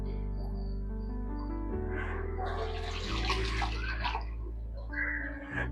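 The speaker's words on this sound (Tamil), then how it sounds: "நம்ம இப்போ வடிகட்டி வச்சுருக்கிறதுல இப்போ பச்சை தண்ணி நம்ம வந்து ஆட் பண்ண போகிறோம்." Cold water pours over drained egg noodles in a strainer to rinse them, a steady rushing splash over a constant low kitchen hum that grows fuller midway through.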